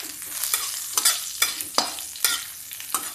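Cumin seeds and split green chilies fry in hot oil for a fasting-day potato dish, a bright crackling sizzle with a run of sharp spatula strokes roughly every half second, close up and alone.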